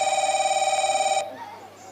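A telephone rings with a loud, steady electronic warble for about a second before cutting off abruptly, leaving a faint murmur of background sound.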